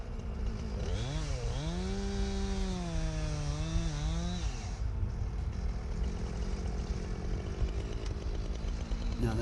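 A chainsaw revs up loud and near, its pitch climbing and holding for a few seconds while cutting tree limbs into pieces for a chipper, then drops to a steady rattling idle.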